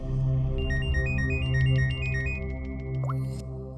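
A mobile phone ringtone plays as a repeating electronic melody of short tonal beeps over a steady musical drone, fairly loud and close, with no talking during the ring, heard in a crime drama scene.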